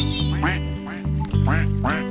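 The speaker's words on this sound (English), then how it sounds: "Let's try the mama duck first." Four loud, nasal duck quacks in a row in the Roblox game Mama Duck RP, evenly spaced and close up, with a low electronic hum underneath, like a game sound effect.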